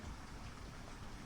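Rain falls steadily as an even, hissing wash, soft and constant with no distinct drops or thunder and no voices.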